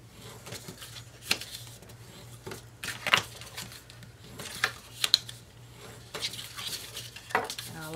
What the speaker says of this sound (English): go in through a bone folder and give each one a nice crisp crease